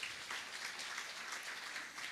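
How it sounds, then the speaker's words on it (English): Faint, distant applause from an audience at a first-year B.Tech induction and orientation program, a soft continuous patter of many hands lasting a couple of seconds with no talk. "let us welcome her by a good applause"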